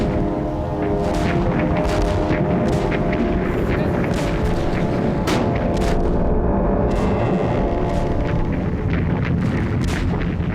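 Cannon fire from a warship: continuous dense booming barrage with repeated sharp blasts layered over a steady heavy rumble, loud throughout.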